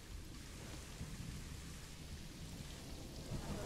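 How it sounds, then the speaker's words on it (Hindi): Steady rainfall in the Planet Zoo game, with a continuous broadband hiss of falling water and a low rumbling undertone, even and unbroken throughout. "अभी बारिश भी शुरू हो गई है"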